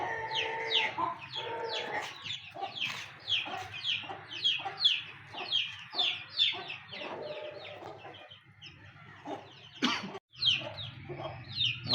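A Jawi hen, about 14 years old, clucks repeatedly among her month-old chicks, short close clucks in an uneven rhythm with higher peeps scattered between them.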